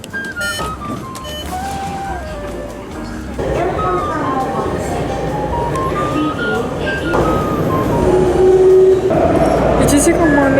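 Steady rumble of a moving train carriage in Taiwan, with people talking over it and a brief tonal chime partway through.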